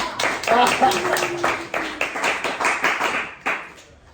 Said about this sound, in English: Give her a round of applause for something.